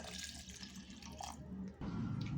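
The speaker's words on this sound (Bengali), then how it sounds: "এবার এর মধ্যে দিয়ে দিচ্ছি কিছুটা পরিমাণে জল" Water pours steadily into a pressure cooker holding jackfruit seeds, a soft continuous splash heard faintly up close, growing fuller near the end.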